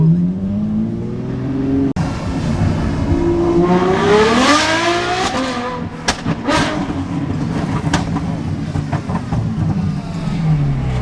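A Ferrari sports car engine revs hard and climbs in pitch, roaring loudly and close, then drops back to a throaty rumble.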